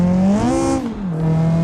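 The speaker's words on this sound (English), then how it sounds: "Oh man, this is not a normal sound from a car." A loud, droning car engine in BeamNG, making about 600 horsepower, whines and hums abnormally, its pitch rising, wavering, and then falling again, sounding strained and unusual with no talking.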